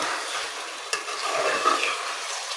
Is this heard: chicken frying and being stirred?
yes